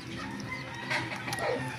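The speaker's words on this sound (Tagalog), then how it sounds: "Yan naman to mga manok nga." Chickens clucking and murmuring nearby amid a busy farmyard background, with a short higher squawk near the end.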